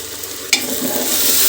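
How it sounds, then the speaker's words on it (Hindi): Garlic ginger paste frying with mutton in a pan, a close, steady sizzle with a sharp stirring scrape just before the midpoint. "तो लहसुन अदरक पेस्ट को भी साथ में फ्राई कर लेंगे ताकि उसका जो कच्चापन है वो चला जाए।"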